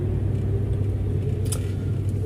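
Car driving on a street in Saudi Arabia just before parking, giving a steady low engine and road rumble throughout, close and continuous with no talk.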